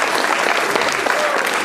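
An audience at a round-table evening for a local football club claps in sustained, dense applause for a short burst, with some voices mixed in.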